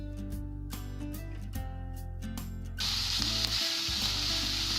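Onions hitting hot oil with toasted cumin seeds in a pan for paneer bhurji, a sudden loud, broad sizzle that erupts partway through over a steady background hum and keeps hissing strongly to the end.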